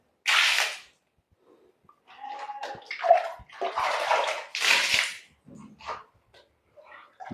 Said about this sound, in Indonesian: Kita buang airnya.